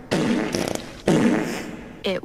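Fart noises play as several short, raspy bursts with gaps between them, and a voice is briefly heard near the end.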